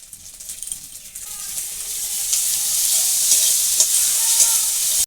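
Ginger paste sizzles loudly in hot oil with fried onions and garlic, frying steadily while a spoon stirs through it, the hiss growing fuller and denser as it goes, with no voices.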